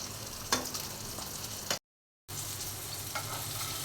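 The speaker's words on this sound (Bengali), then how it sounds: "মাংসটা রান্না হয়ে গেছে, এভাবেই কষিয়ে রান্না করলাম" Meat being stir-fried kosha style in a pan gives a steady close sizzle with scraping stir strokes, broken by a short gap of silence before the frying resumes.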